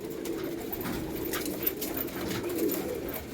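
An older female pigeon coos steadily and low amid a dense, noisy background hiss that runs the whole time.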